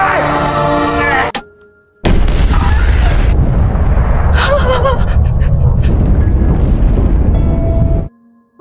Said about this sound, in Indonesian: Ledakan dahsyat menewaskan Mickey 18 dan Kenneth seketika